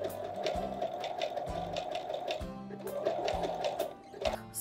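A sewing machine stitching back over earlier stitching to form the smile on a fabric koala couch buddy, running in close, steady bursts of rapid mechanical clatter separated by brief pauses, with no talking.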